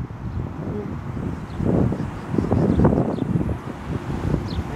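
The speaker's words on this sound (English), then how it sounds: "And plus, the wind is making it hard too." Outdoors at a miniature golf course, gusty wind buffets the microphone in a continuous low rumbling roar that swells and eases over several seconds, with faint voices underneath.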